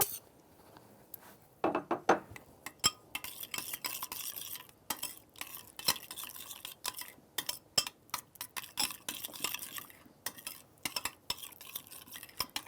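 A spoon stirs thick curd into green chutney in a bowl, giving a run of irregular close scraping and clinking strokes against the dish, loud and alone.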